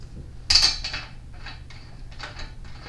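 A spark plug being put back into a Husqvarna 450 chainsaw gives a sharp metallic clink followed by a few faint, small scraping and clicking sounds, close by and alone.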